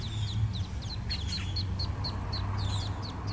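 Ducklings crossing a street in Plantation, Florida, giving a rapid string of thin, high peeps over a constant low rumble of traffic and outdoor noise.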